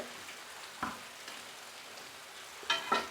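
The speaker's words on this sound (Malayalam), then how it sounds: "വെളുത്തുള്ളി ഇഞ്ചി നല്ല ബ്രൗൺ വരെ മൂപ്പിച്ചെടുക്കണം" Garlic and ginger fry in oil for mango pickle, giving a quiet, steady sizzle with a few louder crackles and stirring scrapes, one early and two close together near the end.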